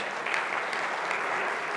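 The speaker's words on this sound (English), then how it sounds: "Mark Wilde, give him a round of applause, please." Steady applause from an audience at a rail industry event's opening ceremony, a dense wash of clapping that holds at an even level throughout.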